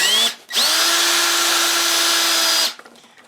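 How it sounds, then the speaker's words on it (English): A RIDGID Gen5X R8611503 cordless hammer drill in drill mode, drilling into wood, revs up loudly and holds a steady high whine for about two seconds, then cuts off abruptly after a brief earlier burst. "Now I'm going to switch that up to drill mode, which is going to be unregulated power"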